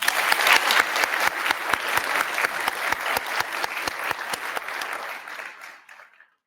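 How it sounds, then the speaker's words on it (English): An audience at an Air Force cyber change-of-command ceremony breaks into sustained applause, many hands clapping with a few sharp, distinct claps standing out, before it tapers off and falls silent. "Let's give them another round of applause."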